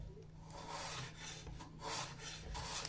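A Stanley 71 router plane cuts fine shavings from wood in a few quiet rasping strokes, close and soft, with no voice.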